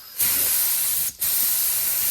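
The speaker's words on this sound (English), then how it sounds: "I've gone and drained the water out of my El Cheapo compressor and just testing this gun now" Paint spray gun fed by a cheap air compressor, spraying in a loud steady hiss with a brief pause near the middle before the spray resumes.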